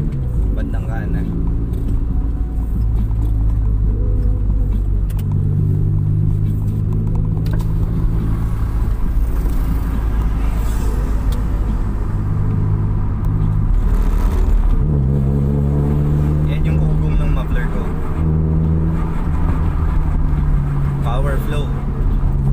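Car engine rumbling through a locally made Filipino aftermarket muffler, a deep loud exhaust drone with several revs rising and falling, heard up close while a person talks over it.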